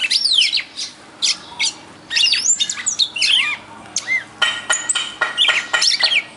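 A caged bird sings loudly and close, mixing rapid chirps, squawks and warbling trills in dense, uneven phrases with short pauses.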